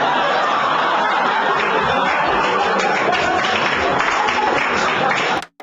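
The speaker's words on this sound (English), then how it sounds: "Applause break" A stand-up comedy audience breaks into sustained laughter and applause after a punchline, a dense, steady wash of clapping and chuckling that holds for about five seconds before cutting off.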